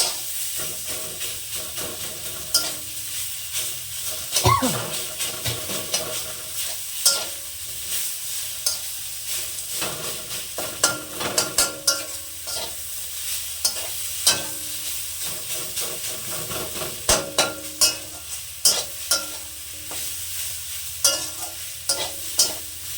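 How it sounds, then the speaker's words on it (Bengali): Stir-frying kalai greens with lata fish over low gas heat: a continuous gentle sizzle and hiss with frequent close scraping strokes of a spatula against the pan, steady and unhurried. "এবার আস্তে আস্তে ঘন ঘন নেড়ে শাকটাকে আমি ভাজা ভাজা করে নেব"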